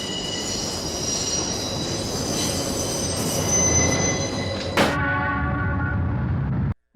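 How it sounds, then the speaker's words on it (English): Train wheels squeal loudly and continuously in a film's sound design, a sustained metallic screech with a brief sharp clank near the end before cutting abruptly to silence. "In both these scenes, no train is ever seen, only heard."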